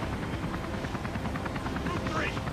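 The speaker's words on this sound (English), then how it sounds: "Helicopters?" Helicopter rotor thumping in the video game Beyond Two Souls during a firefight, a steady rhythmic chop running under gunfire and someone talking throughout.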